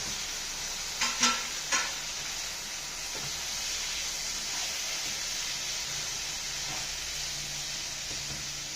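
Cooked beef with masala is sautéed in a hot pan, giving a steady loud sizzle with a few scraping stirs of a utensil near the start, close and continuous with no talk.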